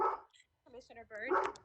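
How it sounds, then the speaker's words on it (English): A dog barks several times in quick succession close to the microphone, yipping sharply while a person speaks in a remote meeting. "I'm sorry about my dog."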